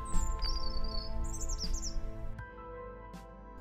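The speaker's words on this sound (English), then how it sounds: "beautiful birdsong on this rather warm spring day" Birdsong in a quiet English churchyard on a warm spring day: several birds chirp and trill in bright repeated phrases, fairly close and clear over a soft outdoor hush.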